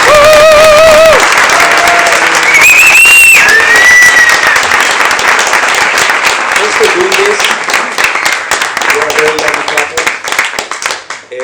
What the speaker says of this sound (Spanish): Sí, quisiera pedir un aplauso.